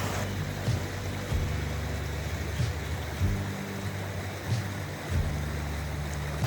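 Water rushing steadily through a stream by a waterfall in the Wood of Cree, a broad continuous wash with faint low rumbling throughout and no talking.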